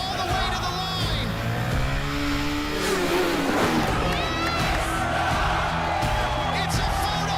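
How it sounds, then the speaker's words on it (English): TVS Apache motorcycles racing hard to the finish line, engines revving and rising in pitch as they pass close by, with a crowd and commentary-style voice mixed underneath. "They're racing all the way to the line."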